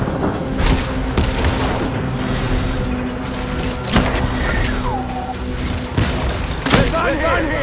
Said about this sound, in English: Light him up. Open fire.